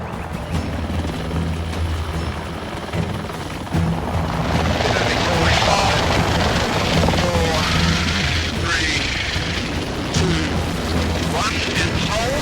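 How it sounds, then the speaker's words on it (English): A rescue helicopter hovers during a winch operation, its loud steady rotor thump and turbine roar filling the scene, with radio-style voices talking over it. "I just want the spectators moved further away. I don't want them under the aircraft during the winch."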